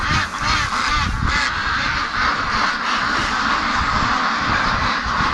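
A flock of free-range ducks quacks and honks loudly and continuously, many overlapping calls close at hand, excited and restless, with no voices.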